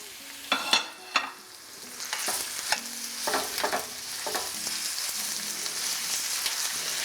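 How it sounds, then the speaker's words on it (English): Meat sautés in a pan for red chile, sizzling steadily with intermittent clacks and scrapes of stirring, loud and close with no talking. "So we're going to go ahead and add that now and start the saute."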